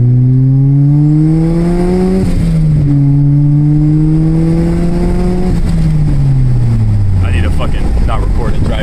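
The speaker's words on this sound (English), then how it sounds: "I'm going to do a little pull for you guys in second gear." A turbocharged Toyota MR2 Spyder on a DIY 5 PSI turbo kit pulls hard in second gear on the street, its engine loud and close, pitch climbing steadily, dipping briefly and climbing again before falling away.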